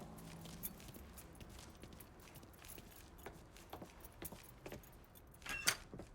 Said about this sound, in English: Hey, man, grab those keys.